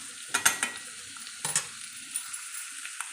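Mango curry frying in a pan, with a close sizzle under a few sharp scrapes and clinks of a spoon stirring, the stirring strongest early and then thinning to light taps; no one talks.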